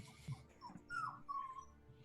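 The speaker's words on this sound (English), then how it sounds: "I was distracted by puppy sounds." Puppy whimpering in short high whines and yips, fairly close and moderately loud, rising and falling over a couple of seconds with no talk over it.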